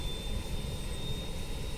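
A BAE 146 jet engine spools up in a flight simulator, a steady broadband roar with a thin high whine held throughout, loud and continuous with no talk.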